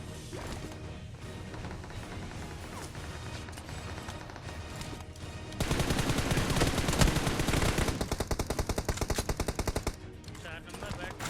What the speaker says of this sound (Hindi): अब जैसे ही नीचे उतरता हूँ कि पीछे से हमें गोलियां पड़नी शुरू हो जाती है।